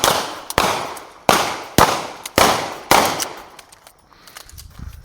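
Pistol shots ring out during a shooting drill, five or six sharp loud cracks spaced about half a second apart, each with a decaying echo, followed by quieter handling noise.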